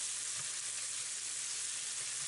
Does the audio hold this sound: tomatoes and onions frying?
yes